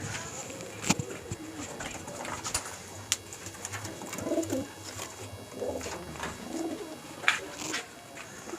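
Pigeons kept for breeding coo in low, repeated throaty calls close by, mixed with scattered sharp chirps, wing flutters and clicks in a loft.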